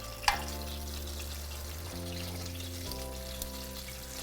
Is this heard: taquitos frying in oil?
yes